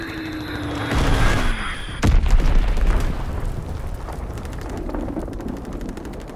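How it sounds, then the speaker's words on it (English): A Fritz X guided bomb strike in Call of Duty: WWII, a sudden heavy blast near the middle followed by a rolling, crackling rumble that fades, with scattered distant gunfire around it. "Fritz X bomb mission underway."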